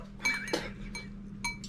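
Metal spoons clink together a few times as three are juggled in one hand during a blind taste test: short, bright, close taps separated by brief pauses, with no talking.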